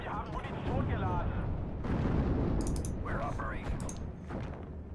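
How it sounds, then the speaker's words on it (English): Three Sherman tanks lob HE shells in the Steel Division video game, with booming, rumbling blasts and sharp crackles under a voice talking throughout. "this is just three Shermans that are, lobbing HE shells on the enemy"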